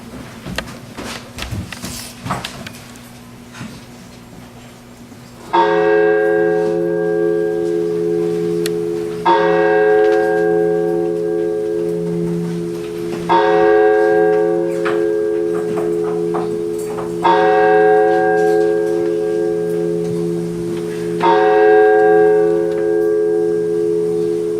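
Church bells ring out six o'clock, a few faint clanks first and then four loud, resonant strikes at even intervals, each tone ringing on and decaying into the next.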